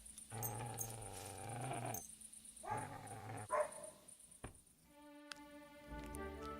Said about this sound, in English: I thought that somebody's dog was barking outside